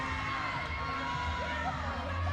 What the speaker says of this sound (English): She can hear the crowd behind her.